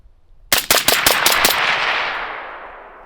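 A 5.56 AK rifle fires a rapid bill drill of six shots in about a second, loud and close, followed by a long ringing echo that fades out.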